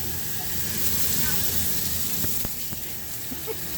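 Sliders, small burgers, sit in a very hot skillet and give off a steady, close sizzle and hiss, with a few faint pops and crackles near the end.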